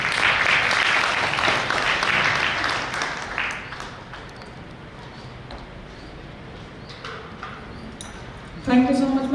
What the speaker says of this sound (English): a huge round of applause to all of you